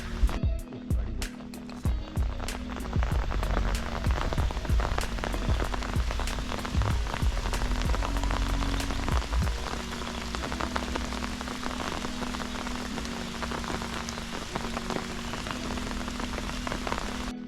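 Steady rain patters on a surface nearby in a misty tea plantation at Ponmudi, Kerala, dense and continuous, with occasional sharper drips and a low rumble underneath.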